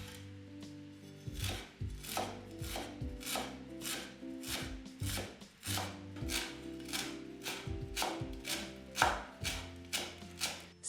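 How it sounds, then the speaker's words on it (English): A knife chopping a small bunch of fresh dill on a board, a quick, even run of close, crisp taps repeating steadily for several seconds with no talk. "Chop a small bunch of dill."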